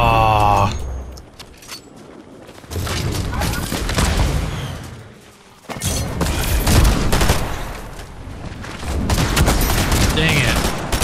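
Sniper rifle and other gunfire in Fortnite Chapter 5 ranked solo zero-build play: loud clustered shot bursts and booms fill most of the stretch, broken by short quieter gaps, with a voice talking over them.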